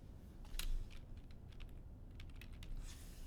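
Keys clacking on a computer keyboard while figures go into an Excel spreadsheet, a steady run of light taps with one louder burst near the start, close and quiet, no talking.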